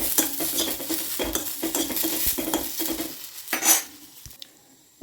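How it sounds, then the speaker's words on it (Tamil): Okra is stirred and sautéed in a pan, a spatula scraping and clattering in a quick, irregular rhythm over a light sizzle, close by, before the stirring stops and things go nearly quiet. "இப்போ இந்த பக்கம் வெண்டைக்காயும் நல்லா வதங்கி வரணும்"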